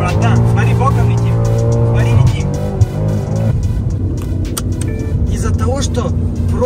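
A BMW M5 F90 drifts sideways, its tires squealing in long wavering tones over a loud, close engine roar, while people talk over the noise.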